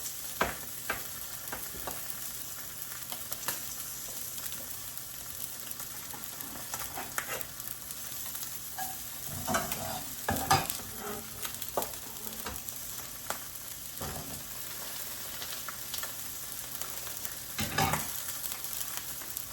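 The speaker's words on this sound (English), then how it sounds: "I'm just going to rough chop the garlic, just thin little pieces, and throw that in the butter" Chopped garlic fries gently in melted butter, giving a faint, even sizzle that runs throughout, with occasional soft clinks and scrapes from a pan or utensil nearby.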